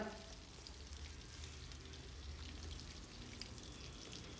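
Chicken frying in shallow oil in a deep pan over a medium flame, a faint, continuous crackling sizzle with scattered tiny pops.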